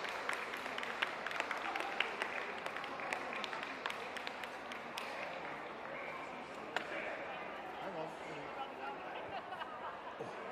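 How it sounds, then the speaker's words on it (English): Spectators at an indoor dog show ring clap for the departing Utility and Terrier group finalists, a steady patter of moderately distant applause mixed with crowd chatter and hall reverberation. "A round of applause for the worthy finalists who leave the ring, please"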